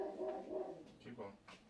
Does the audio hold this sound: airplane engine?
no